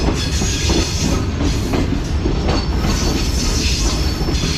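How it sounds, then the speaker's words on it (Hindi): Tezgam train pulling into Sahiwal railway station, a loud continuous rumble of rolling wagons with rhythmic wheel clatter and occasional metallic squeal, close and steady throughout. "दोस्तों 11:15 बजे हमारी ट्रेन जो है वो अप्रोच बना रही है"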